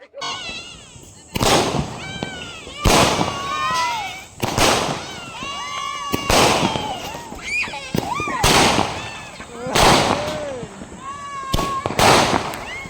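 Diwali firecrackers burst in a loud, regular series of sharp bangs roughly every second and a half, with excited voices talking and shouting between the blasts.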